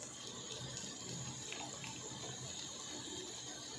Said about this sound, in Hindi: और यहाँ पर हम इसमें हाफ कप पानी ऐड करेंगे,